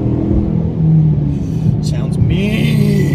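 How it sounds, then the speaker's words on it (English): Revving engine of a ZL1 fitted with a Corsa cold air intake: a steady, loud low rumble that swells and eases over about three seconds, with a faint whine riding on top. "You hear that Corsa cold air intake."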